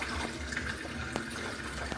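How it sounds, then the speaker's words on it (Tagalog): A tap runs steadily during a morning face wash in a provincial home, a soft continuous splash of water falling into a basin with no voices. "So, magsisipilyo and magwash na lang ako ng mukha ko."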